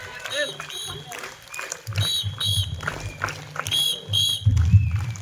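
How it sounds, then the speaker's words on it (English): An audience claps at a school Independence Day ceremony on 15 August, a steady patter of many hands that swells toward the end, with a voice speaking over it throughout. "Please give a big round of applause."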